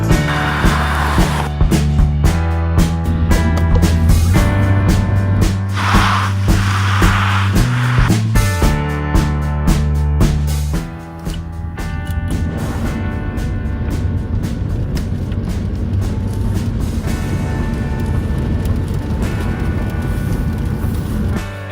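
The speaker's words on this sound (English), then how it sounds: "As you can see, there's a lot of wheel spin here, even though we have dry road, but the winter tires on" A Volkswagen eGolf electric car on winter tires accelerates hard on a dry road with its wheels spinning. A loud tonal motor whine shifts in pitch, then gives way to a steady broadband roar of road and wind.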